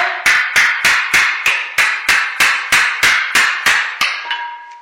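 A foot repeatedly stomps on a sheet aluminium motorcycle upper triple clamp, giving about fourteen sharp, evenly spaced metallic strikes with a ringing decay, loud and close, with no talking.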